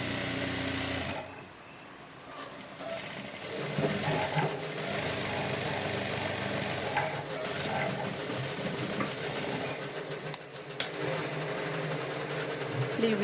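A sewing machine stitches a blouse sleeve with a steady, close, mechanical whirring hum. The sound drops briefly near the start, and a faint voice talks underneath.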